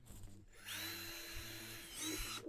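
A power drill whirs for about two seconds, driving a screw into a wooden picture frame, its motor straining briefly near the end.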